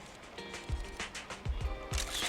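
A camera shutter clicks as a picture is taken in the video game Zenless Zone Zero, a few sharp clicks set against game music and background sound.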